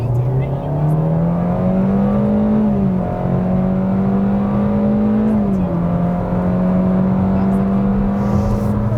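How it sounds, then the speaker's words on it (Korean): Hyundai Avante 1.6 gasoline car with CVT in sport mode accelerating hard, a steady loud engine drone rising in pitch with two brief dips like stepped shifts, continuous throughout. "자, 급가속을 해보겠습니다."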